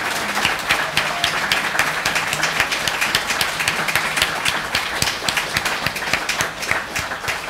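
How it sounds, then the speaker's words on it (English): Sustained applause from an audience for a panel discussion, many hands clapping at once in a steady, dense patter with a few louder individual claps standing out. "will you please join me in giving our panelists a round of applause"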